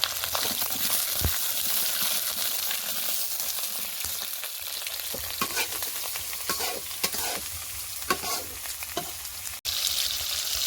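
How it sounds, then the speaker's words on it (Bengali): Cut potatoes for a meat curry frying in a wok, a loud continuous sizzle broken by frequent stirring scrapes and clatters up close, no talk. "এই কড়াইতে মাংসের জন্য কেটে রাখা আলুগুলো মা ভালো করে ভেজে নিচ্ছে"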